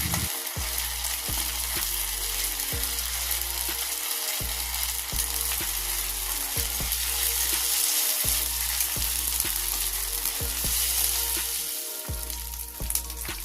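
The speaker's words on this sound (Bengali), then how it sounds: "এবার দিলাম 1 চামচ আদা রসুন বাটা, দিয়ে নাড়াচাড়া করে ভেজে নেব।" Ginger garlic paste fries with onion and potato in a pan, a loud continuous sizzle with regular stirring scrapes and a few brief pauses, no voices.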